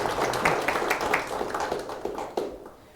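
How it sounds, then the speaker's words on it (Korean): An audience applauds at a digital transformation seminar at Kyungbok University, a steady wash of many hands clapping that holds for about two and a half seconds and then fades out. "박수 부탁드립니다."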